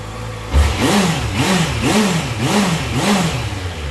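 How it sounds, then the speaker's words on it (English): A 2014 Honda CBR650F sport motorcycle engine idles close by, a steady low burble with a regular wavering pulse, no voices over it. "just sitting there idling, you could talk to somebody at pretty much a normal volume"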